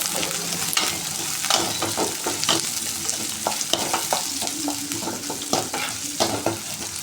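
Medium-size onions with green chillies fry in a pan for a drumstick-leaf rasam, a steady close sizzle with frequent stirring scrapes throughout, no voices.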